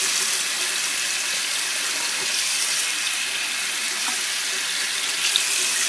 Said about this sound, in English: I like to turn the hot water all the way on, and then I turn the cold water a little bit